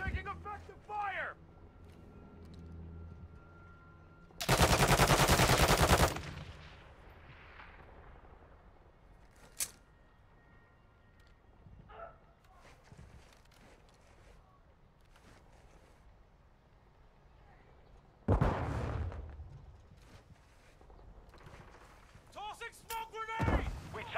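Gunfire and explosions in the video game Call of Duty: Modern Warfare II Remastered, with loud blasts and sharp shots separated by quieter stretches as shouted soldier voices call out over the combat.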